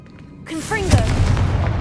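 A Confringo fire spell blast in the Hogwarts Legacy game, a sudden booming impact followed by a rumbling, crackling tail, with a brief spoken word over the burst.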